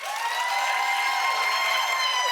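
A studio audience claps together during a vote for a contestant, a dense, even burst of applause lasting a couple of seconds with no voices over it.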